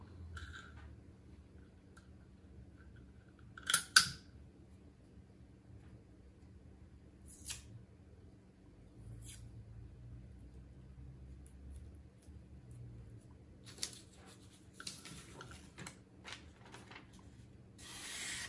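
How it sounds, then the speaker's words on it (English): Freshly honed Farberware kitchen knife slicing through a sheet of notebook paper, a few brief quiet crisp swishes and rustles with soft handling noise, spaced apart against near silence. "let's grab a sheet of paper here and try a little cut test."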